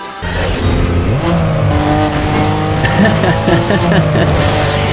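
An old Porsche 911 racing car in Need for Speed Carbon revs hard and loud, its engine climbing through shifting pitches while tires squeal and skid, other cars roaring close by.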